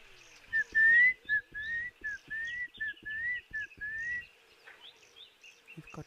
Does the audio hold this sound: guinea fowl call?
yes